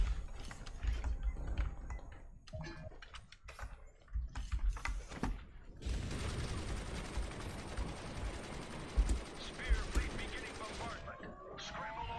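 Rocket barrages and rapid gunfire from a boss fight in the action game Prejudice, a dense, continuous mechanical roar of repeated blasts that builds into a sustained loud volley in the second half.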